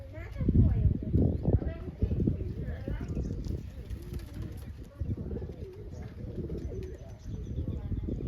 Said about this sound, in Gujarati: તો અનિલભાઈ ઉડાડે ગયું છે ગયું ઉપર